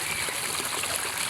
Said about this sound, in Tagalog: Mabilis ang pagkati ng tubig.